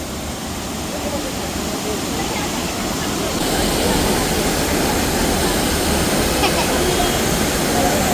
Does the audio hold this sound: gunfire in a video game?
no